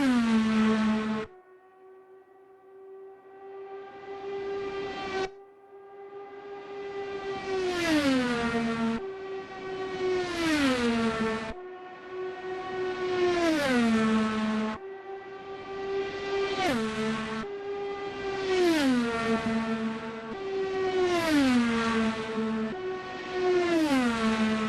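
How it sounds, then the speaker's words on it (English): A high-revving IndyCar V6 racing engine in a video game screams through repeated gear changes, pitch climbing then dropping sharply with each shift, about seven cycles, loud and close. "I'd expect IndyCar to sound like this for quite some time to come"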